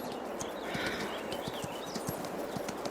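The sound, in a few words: horse hooves clip-clop in a video game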